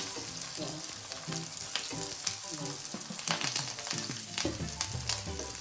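Green pea cutlets shallow frying in a little oil in a pan, a dense, continuous close sizzle and crackle with occasional stirring sounds, no talking.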